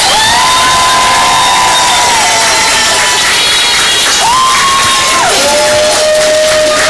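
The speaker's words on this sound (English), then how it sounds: "Another round of applause for Fletcher, please" An audience at a book conversation event cheering and clapping in a loud, sustained wave, with whoops and shouts rising over the applause throughout.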